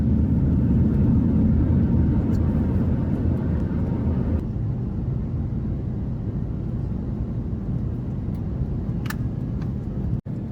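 Inside an airliner in flight to Greece, a steady broad engine and air rumble drones continuously and fairly loud, with faint cabin clicks and a brief thump near the end, and no voices.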